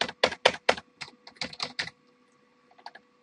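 Typing on a computer keyboard, a quick burst of several clattering keystrokes followed by a pause and a few more scattered presses, close and clear with no voices.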